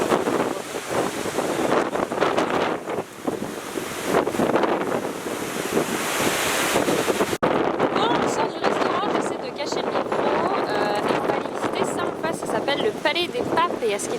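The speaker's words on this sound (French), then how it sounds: "c'est une journée extrêmement ventée sur l'autoroute" Strong wind buffeting the microphone in loud, gusty roars on a highway, with a rushing road-like wash and a voice speaking now and then underneath.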